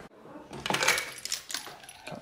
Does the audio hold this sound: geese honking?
no